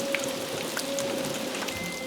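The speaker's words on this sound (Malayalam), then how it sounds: "ഇപ്പോഴും മഴ പെയ്തുകൊണ്ടിരിക്കുക" Rain falls steadily with distinct drops pattering on surfaces, a moderate continuous patter with a faint steady tone underneath and no voices.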